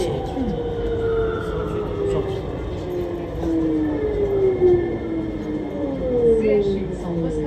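A VAL 208 automated metro train on the Lille line rumbles steadily and its motor whines, rising and falling in pitch, while passengers talk nearby throughout.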